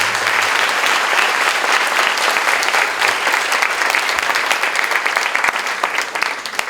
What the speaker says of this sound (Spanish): cálido aplauso para nuestro.